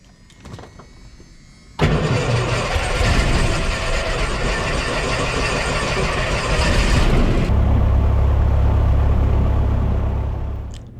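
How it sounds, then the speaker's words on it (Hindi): A small propeller aircraft engine cranks and catches after a couple of seconds, then roars loudly and steadily, settling into a deep, heavy drone toward the end. "फाइनली स्टार्ट हो गए है इंजन।"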